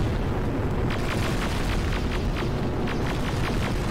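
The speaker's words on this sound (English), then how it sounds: "Rocket launcher again." A rocket launcher explosion in a Terminator video game gives a loud, sustained roaring blast with a dense low rumble and rapid crackling bursts throughout.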